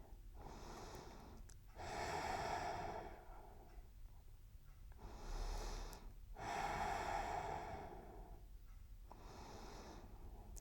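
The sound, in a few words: deep breathing during yoga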